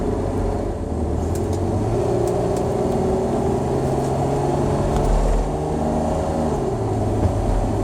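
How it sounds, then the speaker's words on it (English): Mercedes 280 TE W123 estate accelerating hard after a kick-down downshift, heard from inside as a steady low engine drone with rising and falling tones and road rumble, no speech. "So I mean, it works, it shifts down, but you have to press hard."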